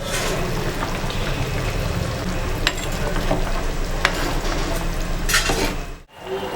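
Fish curry (meen vattichathu) simmering and being stirred in a pan over a medium flame, giving a steady close bubbling sizzle with occasional utensil scrapes and clinks, ending in a brief dropout near the end.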